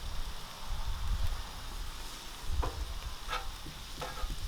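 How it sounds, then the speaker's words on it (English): Onion sautés on a Blackstone griddle with a steady sizzle and crackle, broken by a few clacking strokes of a spatula. "start heating that up while we're sauteing our onion"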